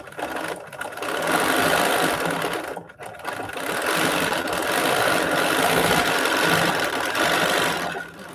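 A sewing machine runs free-motion stitches across raw-edge appliqué on quilted house blocks, a steady close mechanical whir that pauses briefly near the three-second mark, then carries on at an even pace.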